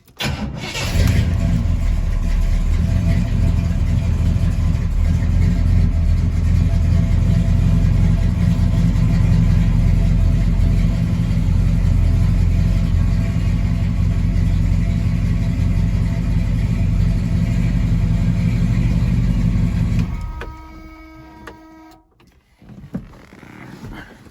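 A 1968 Chevrolet El Camino SS 396 engine starts and settles into a loud, steady idle close by, running for about twenty seconds before shutting off with a few clicks.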